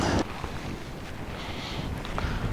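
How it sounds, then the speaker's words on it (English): Strong wind blows steadily around a pitched Nortent Vern 2 tent, a broad, constant roar with gusty swells, loud and close, and no talking. "So the wind's coming from just here, like a slight side on, real world conditions really."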